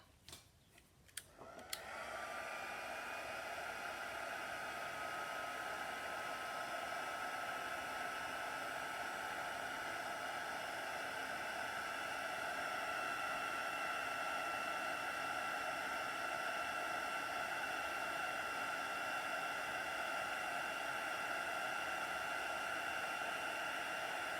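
An embossing heat tool blows hot air onto embossing powder on a card for a Daisy Lane design, switching on with a few clicks and then holding a steady, loud whooshing hiss the whole way, with no talk.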